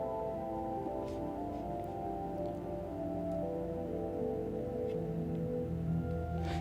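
A Mutable Instruments Elements modular synth runs through a Strymon BigSky reverb and TimeLine delay, producing soft sustained drone tones layered with faint ticking echoes. It stays quiet and steady throughout with no voice.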